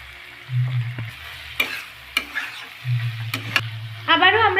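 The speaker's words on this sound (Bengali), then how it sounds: "আদা কোড়ানোটা দেওয়ার পর আবারও ভালোভাবে নেড়ে নেওয়া হলো" A spatula stirs flattened rice pulao with grated ginger in a pan. Several distinct scraping strokes sound over a soft background sizzle, with a low steady hum throughout.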